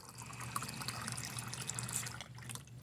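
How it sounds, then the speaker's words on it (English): Room temperature water is poured into a container for a gas law experiment, giving a continuous close trickling and splashing with light drips throughout. "I'm just going to replace it with some room temperature water."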